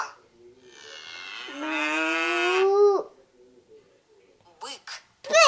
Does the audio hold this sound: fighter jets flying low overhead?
no